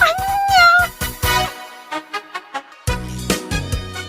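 Several cats in a house meow loudly and repeatedly, with long wavering cries followed by shorter bursts close to the listener, mixed with a few brief noises between calls.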